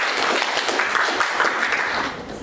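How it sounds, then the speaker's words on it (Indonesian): An audience at a class discussion session gives a presenting group a burst of steady, dense clapping lasting a few seconds, then tapering slightly. "kita beri aplaus dulu untuk kelompok"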